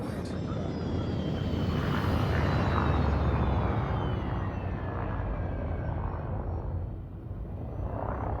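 A spaceship in Elite Dangerous descends toward landing pad 5 with its landing gear deployed, a loud, steady engine roar and thrusters whining with slowly shifting pitch throughout.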